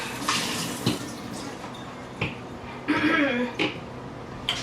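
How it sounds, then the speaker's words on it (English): Tap water runs into a kitchen sink while something is rinsed out, a splashing flow that swells and fades in short bursts with brief knocks, close by. "Rinse this out a bit."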